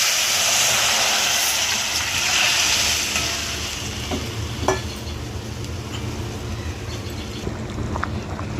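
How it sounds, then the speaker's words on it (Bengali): Fish curry gravy with a bay leaf and a torn green chili boils in a pan, a close bubbling hiss that is strongest at first and then settles to a quieter simmer with faint clinks. "ঝোলটা ফুটছে, এবার ভেজে রাখা মাছগুলো দিয়ে দেবো"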